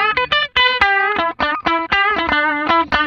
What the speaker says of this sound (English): This is actually a strat loop.